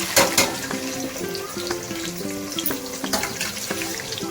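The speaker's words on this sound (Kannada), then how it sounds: "ಕೆಂಪು ಬಣ್ಣ ಬರೋವರೆಗೂ ಸ್ವಲ್ಪ ಚೆನ್ನಾಗಿ ಫ್ರೈ ಮಾಡ್ಕೊಳ್ಳಿ." Three large onions fry in oil in a pan for chicken biryani, crackling and sizzling steadily up close with occasional stirring scrapes, and no one talks.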